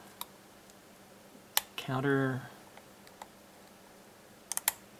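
A pin-tumbler lock being picked with a tension wrench and pick, producing a few sharp isolated clicks spread across the moment, close and quiet, with someone briefly speaking in the middle.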